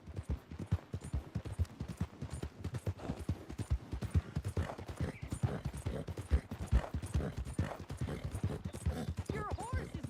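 A horse gallops in the video game Red Dead Redemption 2, its hooves thudding in a fast, steady clip-clop rhythm, close and continuous, with a brief whinny near the end.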